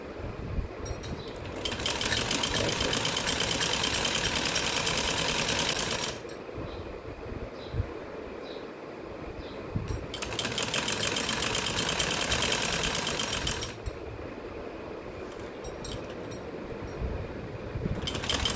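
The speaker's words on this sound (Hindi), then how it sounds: "ऐसे अब हम डोरी सिलाई करेंगे।" A sewing machine stitches a salwar in two long bursts of steady, close mechanical whirring, each lasting several seconds, separated by quieter pauses with faint handling noise.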